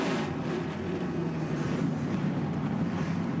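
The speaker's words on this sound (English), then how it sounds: "All of the engines are fired up." Many NASCAR Camping World Truck Series engines running together on the starting grid at Atlanta before the American Commercial Lines 200, a dense, steady, roaring drone with no voices.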